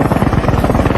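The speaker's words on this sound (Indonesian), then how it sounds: "Joker dan Raptorman pun berangkat menggunakan helikopter" Helicopter rotor chop pulsing steadily and loudly, a rapid rhythmic thudding with broad engine roar underneath, close and continuous with no talk.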